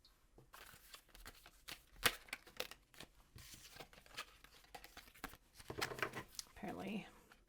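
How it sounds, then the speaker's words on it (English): Tarot cards being shuffled by hand, a series of soft papery riffles and slaps in short bursts, close and fairly quiet. "Apparently my shuffling skills are not great today."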